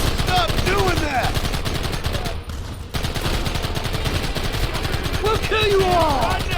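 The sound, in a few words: gunfire in the video game Red Dead Redemption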